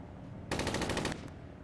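A single rapid burst of automatic gunfire in Arma 3, a dense rattling string of shots lasting about half a second, fired from a moving vehicle, loud against a quieter rumbling background.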